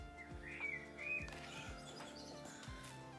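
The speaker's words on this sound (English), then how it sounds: "you can hear the birds" Birds chirp and tweet in short bursts over a steady background with soft rhythmic thumps, moderately close, no talking.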